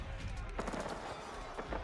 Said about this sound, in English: Nestor Bees does start to fire off near that outpost